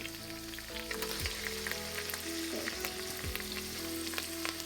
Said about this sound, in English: The prawns are cooking nicely